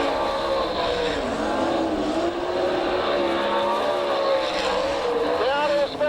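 Sprint cars race on a dirt oval at an All Star Circuit of Champions event in Tulsa, a dense, loud roar of several engines rising and falling together throughout while an announcer's voice runs over the top.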